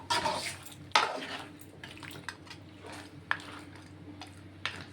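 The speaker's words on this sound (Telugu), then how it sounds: "నేను గ్యాస్ కొంచెం సిమ్లో పెట్టి ఫస్టే చేపలు కలిపేసుకుంటున్నాను" Fish pieces being stirred into a curry in a pan over low flame, soft scraping and clinks of a utensil against metal with a few sharper knocks, close and fairly quiet, no talking.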